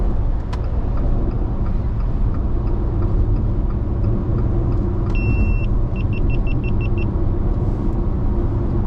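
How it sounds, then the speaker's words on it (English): Steady road rumble of vehicles on a multi-lane road as a van overtakes into the inside lane, a continuous dense drone with a few faint short beeps near the end; no talking. "Van's overtaking now to get into the inside lane"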